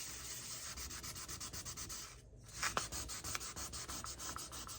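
Sandpaper, silicon carbide grit around 800, rubs back and forth across a small spot on a cooktop stove surface, a steady close gritty scraping in quick repeated strokes with one brief pause.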